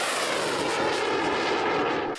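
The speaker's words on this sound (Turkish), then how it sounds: "Bir savaş uçağı alçaktan uçarak gizlenerek geliyor." A fighter jet flies low overhead, producing a loud, broad roaring rush of engine noise that stays dense and sustained throughout.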